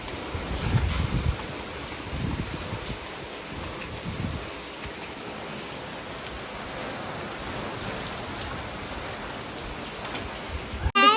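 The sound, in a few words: light rain falling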